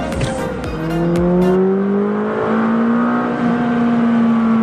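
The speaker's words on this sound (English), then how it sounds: "The turbo just sounds so awesome." A 2020 McLaren 570S Spider turbo engine roars and revs up through the gears, loud and close, with a rising whine and rough exhaust note.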